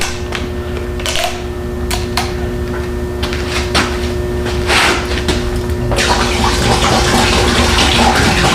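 Rust remover liquid poured from a gallon jug onto a truck's front frame, a steady close splashing and gurgling stream with a few knocks and clatters, the pour growing fuller and louder toward the end.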